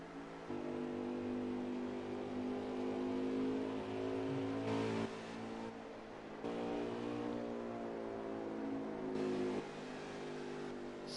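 A stock car at Iowa speedway accelerates hard coming off the turn, its mid-pitched engine note climbing and holding steady, loud and continuous with brief dips between throttle pushes.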